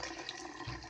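Leftover cooked rice being rinsed under running water, a steady close splashing and gurgling wash with no talk.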